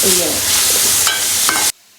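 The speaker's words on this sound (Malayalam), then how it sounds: "ഉള്ളി ഇട്ടിട്ട് നല്ലോണം വഴറ്റണം" Chopped onion sautéing in hot oil for Maggi noodles, a loud steady sizzle with stirring scrapes that cuts off abruptly near the end, no talking.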